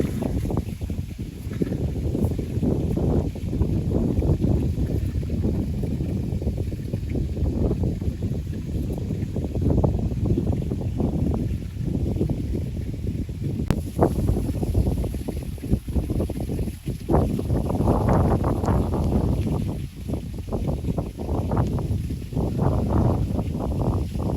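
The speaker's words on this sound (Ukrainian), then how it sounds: "Вітер здійнявся, жене хвилю." Gusty wind buffets the microphone over lapping river water and waves on a riverbank at sunset, a continuous rumbling roar outdoors with no clear voices.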